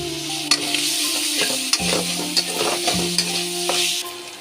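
Spices with ginger-garlic paste fry and sizzle in hot oil for a Bengali ridge gourd and shrimp curry, a steady close hiss broken by a few sharp spoon-stirring clatters.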